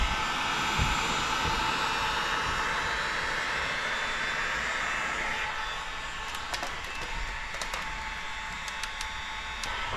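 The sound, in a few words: heat gun warming paint protection film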